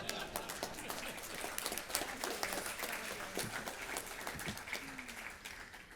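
Audience applause fills a symposium hall, sustained clapping from many hands at steady loudness for the full stretch, without speech over it.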